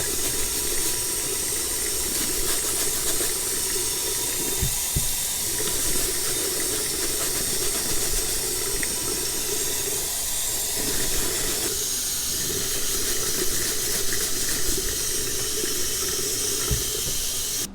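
A tap runs continuously with a steady hissing splash as caked mud is rinsed off a leather item under the stream, with faint handling noises now and then.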